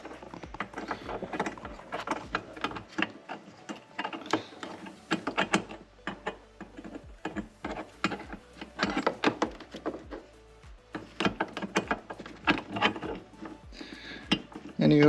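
A 2020 Hyundai Tucson LED headlight bulb is pushed into its socket and twisted clockwise, giving close, dense plastic clicks, taps and small ratcheting clatter in quick irregular bursts, with no talking.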